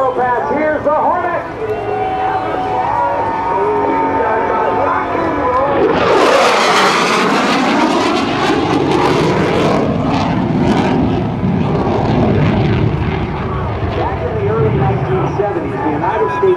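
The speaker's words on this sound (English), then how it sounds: "From the right, and the photo pass, here's the Hornet." F/A-18C Hornet fighter jet making a photo pass at an airshow, a roaring jet rising to a loud sweeping peak midway and then fading, with a public-address announcer talking over it.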